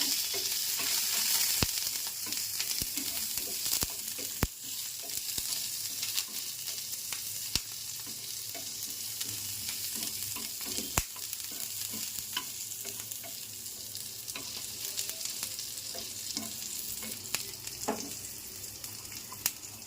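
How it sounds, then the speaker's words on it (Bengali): Chopped garlic and green chilli fry in oil on a tawa, making a bright, constant sizzle up close, punctuated by scattered clicks of a utensil stirring and scraping the pan. "তাওয়াতে একটু তেল দিয়ে এখানে দিলাম একটু রসুন কুচি আর একটু কাঁচা লঙ্কা কুচি।"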